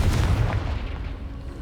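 A Confringo fire-blast spell explodes in Hogwarts Legacy, a heavy, close boom that fades quickly into a short rumble.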